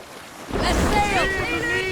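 A Viking longship sets sail on the sea in Assassin's Creed Valhalla, with a rush of wind and water swelling in after a quiet start, loud and close, overlaid by voices and tonal game sounds.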